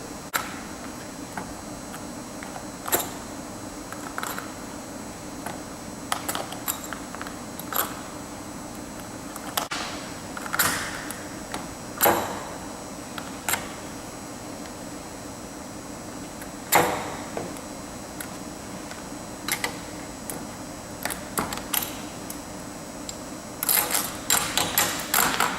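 Excess bolts on a CAI hinged Plategrip belt fastener are snapped off one by one with bolt breakers, making scattered sharp cracks and clicks at irregular intervals over a steady low background, fairly close, with no speech.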